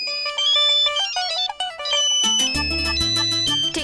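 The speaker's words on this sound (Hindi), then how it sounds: "अगर आपकी आज्ञा हो तो मैं फोन रिसीव कर लूं?" A melodic electronic phone ringtone plays loudly, a bright chiming tune that shifts into a fuller, bass-heavy pattern partway through, with no voices.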